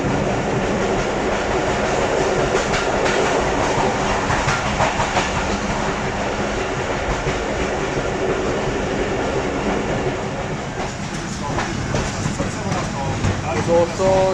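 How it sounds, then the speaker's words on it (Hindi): Fareed Express train rolls toward Kasur Junction station in rain, a loud continuous rumble and rattle of wheels and carriages from onboard, with clattering that grows busier toward the end. "इस वक्त ट्रेन हमारी कसूर जंक्शन रेलवे स्टेशन पर अप्रोच कर रही है"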